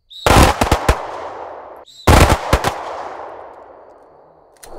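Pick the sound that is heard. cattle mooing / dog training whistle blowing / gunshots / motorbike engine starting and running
gunshots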